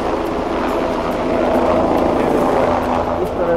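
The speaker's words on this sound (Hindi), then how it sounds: "इस तरह से हेलीकॉप्टर की हो रही है लैंडिंग।" A helicopter lands at the Kedarnath helipad in the Himalayas, its steady, loud rotor and engine roar filling the clip without pause.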